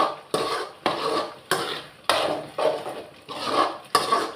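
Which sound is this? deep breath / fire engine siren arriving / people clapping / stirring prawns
stirring prawns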